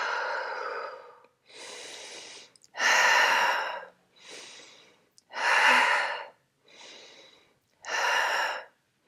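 Slow, deep breaths during a low-impact postpartum glute workout: a steady cycle of long airy inhales and forceful exhales, close and clear, with short silences between each breath.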